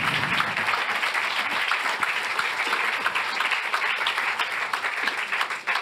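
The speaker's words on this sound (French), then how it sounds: "On va les applaudir" Sustained applause from an audience honoring award nominees at an insurance talent awards ceremony, a dense, steady wash of clapping filling the hall throughout without pause.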